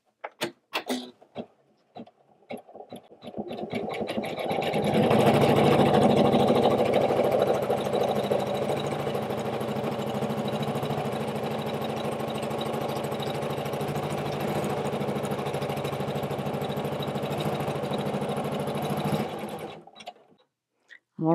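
A Janome 500E embroidery machine sews a tack-down stitch on an in-the-hoop ornament, running as a steady, close, continuous mechanical whir for most of the stretch before stopping, with no talk.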